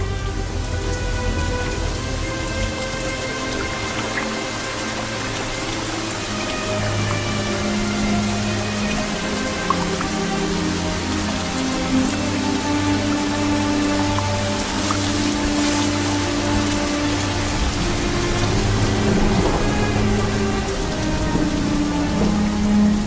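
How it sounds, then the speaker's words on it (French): Heavy tropical rain pours down in the Amazon rainforest, a loud, continuous hiss and patter of drops on leaves and surfaces, with low rumbles of distant thunder rolling underneath throughout. "Les pluies fréquentes et abondantes constituent un défi de taille pour la faune et la flore"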